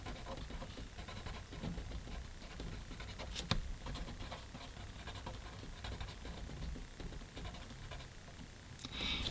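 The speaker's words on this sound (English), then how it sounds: "So I'm just going to write down social media." A pen scratches and taps across a small Happy Planner page in a quiet room, soft and close, with light rustles and one sharp click midway.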